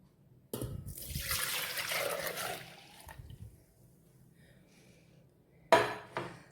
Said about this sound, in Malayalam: നമുക്കിത് വീണ്ടും ഒന്ന് മിക്സിയിലേക്ക് ഒഴിക്കാം